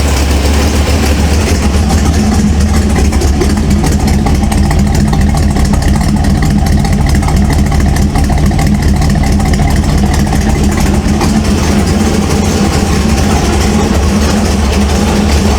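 A 1948 Ford F1 custom panel truck engine idling with an exhaust manifold leak, a loud steady low rumble with constant pulsing chug and no voices.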